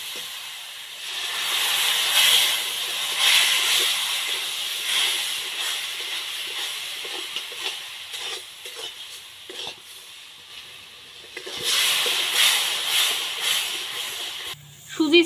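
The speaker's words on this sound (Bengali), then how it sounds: "অল্প অল্প দুধ দিয়ে কিন্তু এটা নাড়াচাড়া করতে থাকা লাগবে।" Milk poured gradually into semolina halwa sets off bursts of loud steamy hissing and sizzling while the pan is stirred, fading between additions, with a voice speaking at times.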